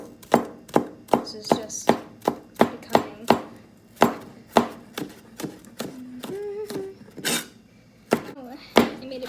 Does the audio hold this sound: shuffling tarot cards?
no